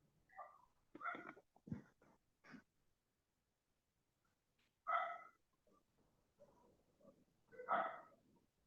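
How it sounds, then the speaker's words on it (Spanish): A dog barks faintly several times in the distance, in short spaced bursts separated by near silence. "Ahí solo se escucha perro ladrar"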